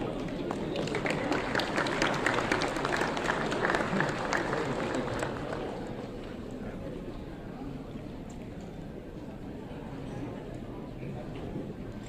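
Applause from an audience at a Nepal Constitution Day ceremony, broad dense clatter that is loudest at first and then eases to a steadier, softer patter for the rest.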